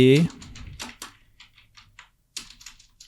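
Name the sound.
typing on a computer keyboard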